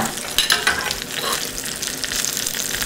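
Warm oil sizzles loudly in a frying pan ready for yam fritters, a continuous crackling hiss close by with a few sharper pops early on and no talking.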